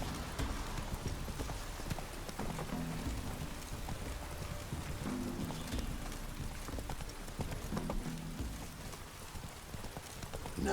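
Horses' hooves clip-clop at a steady walking pace in The Witcher 3: Wild Hunt, close and rhythmic over a backdrop of falling rain, with no one speaking.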